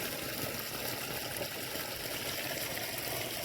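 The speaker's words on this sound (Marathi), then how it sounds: "असं पातळ मित्रांनो पाणी चालू आहे" Irrigation water flows through a farm field as a continuous, even rushing wash, moderately close and unbroken, with no voices.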